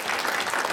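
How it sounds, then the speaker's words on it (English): Audience applause for the speakers at the close of a panel discussion, a steady dense wash of clapping hands filling the room without pause for under a second. "Nice round of applause for our speakers here."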